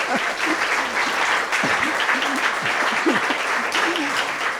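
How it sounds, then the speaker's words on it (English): An audience at a post-show talk following a dance performance breaks into sustained, dense applause, loud and close and continuing steadily throughout. "maybe we get one more rousing round of applause."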